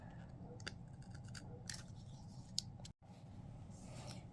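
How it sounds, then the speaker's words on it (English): A seam ripper cuts small slits through fabric for a magnet installation, producing a few quiet crisp snips and clicks over soft background noise, close and faint. "once you cut those little tiny slits"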